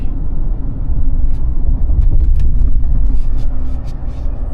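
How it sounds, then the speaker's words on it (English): A car's tires roll over a railroad track crossing, giving a low, steady road rumble with a few brief light thumps and rattles in the middle and no other noise on top. "So the only noise I heard was my tires."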